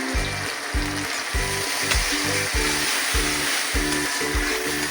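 Spices for a puti fish curry sauté in a pan with turmeric, chili powder, tomato and green chili, giving a loud, continuous sizzle and crackle with steady stirring underneath and no talk.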